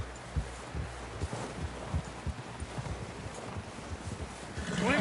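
Horse hooves on a trail in the video game Red Dead Redemption 2, a steady clip-clop of close, rhythmic thuds over a low, rustling outdoor ambience.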